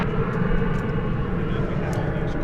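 An Envoy regional airliner takes off from runway 18 left at Dallas/Fort Worth airport, a loud, broad, continuous jet engine roar heard from fairly near and holding steady throughout.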